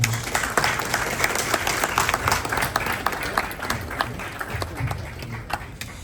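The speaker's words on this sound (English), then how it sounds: "Please, once again, a round of applause." Audience applause at a youth-agency project launch event in Ghana, steady dense clapping from a crowd lasting throughout, moderately loud, with some speech mixed in.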